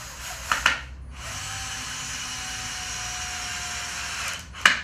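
A power drill drives screws into a pallet-wood picket gate outdoors, a sustained steady whir of several seconds framed by brief clicks and knocks at the start and end, close and alone without speech.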